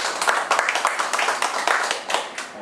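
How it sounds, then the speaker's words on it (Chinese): An audience at a health lecture on heart and brain disease claps in a quick, uneven burst of many hands that continues for a few seconds, fairly close and loud in a hall. "要不要鼓掌一下？"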